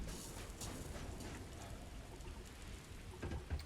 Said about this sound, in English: Freezing liquid thunderstorm.